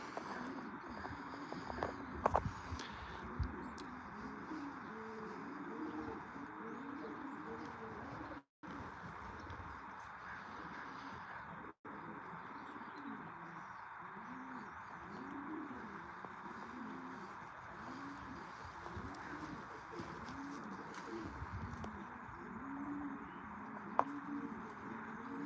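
Pigeons coo inside a loft, many soft repeated coos overlapping into a steady, low murmur that carries on without a break, quiet and fairly close.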